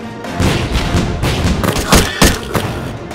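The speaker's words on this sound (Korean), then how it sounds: "방포하라!" A volley of Joseon-era seungja chongtong gunpowder hand cannons firing: a ragged series of loud booms and thumps overlapping in quick succession, close and heavy, with raised voices mixed in.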